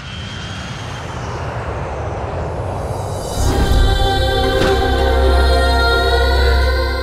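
An airplane in a comedy film scene makes a loud, steady engine roar that swells sharply about halfway through and then holds as a heavy, close drone, with no talking.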